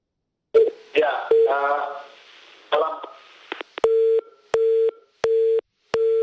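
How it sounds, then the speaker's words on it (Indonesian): Busy tone on a telephone line after a call to an ambassador drops during a broadcast interview: a series of steady repeating beeps with even gaps, following a stretch of speech. "nampaknya hubungan telepon kami terputus dengan Pak Dubes"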